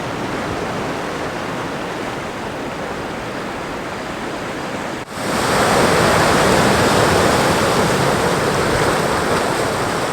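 Waves washing onto a beach at sunrise, a continuous broad rush of surf that swells louder and fuller in the second half, with no voices.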